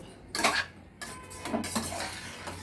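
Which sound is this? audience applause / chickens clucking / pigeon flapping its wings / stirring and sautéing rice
stirring and sautéing rice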